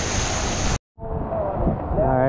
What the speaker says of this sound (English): Some good waves today. It's kind of surprising. It's pretty windy.